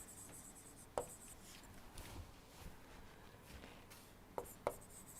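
Chalk or marker strokes on a board during an engineering lecture on multistage compression, faint scratchy writing with a few sharp taps, quiet and sparse against a low room hum.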